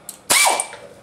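A 3/8 socket ratchet loosens a machine-thread bolt on the combustion chamber of a Sta Rite heater, giving one sharp metallic burst after a faint click, close and loud, with no voices.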